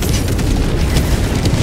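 A hellbomb detonates in Helldivers 2, a massive, sustained roaring explosion with deep rumble and crackling debris, loud and continuous throughout.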